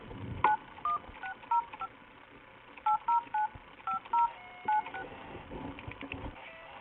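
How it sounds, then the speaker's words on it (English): A phone keypad dialed number by number during a roadside police stop, each key press a short, clear dual-tone beep in quick, uneven bursts with brief pauses between groups over a faint background. "So we have to use my phone to call, but we can get them out."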